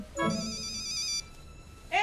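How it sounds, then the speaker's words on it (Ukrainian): A telephone rings in a scene from the TV series H2O: Just Add Water, a bright electronic trill with stacked tones lasting about a second, followed by a short rising chirp, all over faint background sound. "Ем, телефон."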